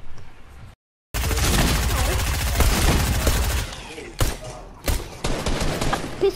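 Rapid gunfire from a video game, a dense, loud burst of shots lasting a few seconds, then scattered single bangs, with a brief dead gap near the start.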